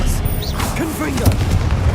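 The Confringo explosive spell cast in the Hogwarts Legacy video game: a sharp blast with a booming burst and crackling tail over busy combat sounds. Brief voices are heard alongside.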